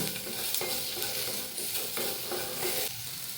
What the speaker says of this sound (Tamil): மஞ்சள்தூள் சேர்த்து இதை நல்லா ஒரு கரட்டி விடுங்க